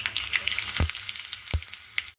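Curry leaves hit hot oil for tempering a pickle, setting off a close, bright crackling sizzle with two sharper pops. The sound stops abruptly at the end.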